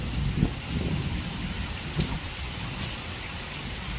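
Heavy monsoon rain pours steadily in Khadimabad, Dadyal, a dense continuous hiss of drops hammering surfaces nearby, with a couple of brief low thumps near the start and middle and no voices.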